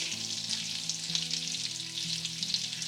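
Chopped garlic, rosemary and thyme sauté in melted butter and olive oil, giving a bright continuous sizzle over a soft low tonal hum, with no talking.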